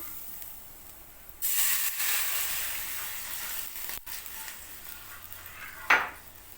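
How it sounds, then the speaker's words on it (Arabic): Water poured into a hot pan of frying spices gives a sudden loud hiss that slowly fades, then a brief clatter and a final sharp burst of sizzling near the end. "هبدا انزل بالميه"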